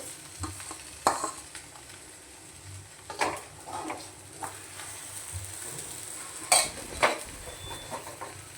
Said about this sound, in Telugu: ఇందులో ఉన్న ఆ మ్యాగీని మాత్రం ఇలా మొత్తం కలిపేసుకోవాలి